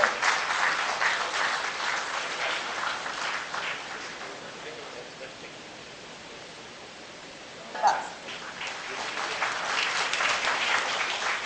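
Applause from a conference audience for a speaker, strong at the start, dipping to a softer patter in the middle, then swelling again with a brief sharp sound before rising clapping at the close.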